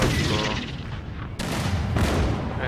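Cannon artillery fire in the video game Empire: Total War, a few deep booming blasts in quick succession over rumbling battle noise.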